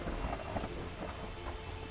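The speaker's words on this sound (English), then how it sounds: "The storm is getting more serious." A thunderstorm in a video game roars with dense, steady rain and low rumbling thunder, a continuous loud wash of noise with no voices.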